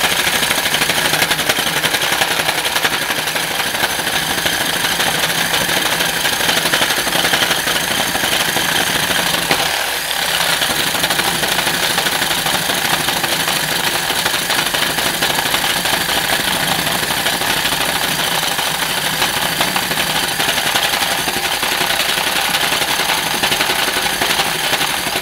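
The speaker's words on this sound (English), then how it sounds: "you could grab a drill with a wheel on it and go to town" A power drill with a wheel spins to wind serving thread onto a bowstring, making a loud, steady machine whir that runs unbroken for about 25 seconds with no talking.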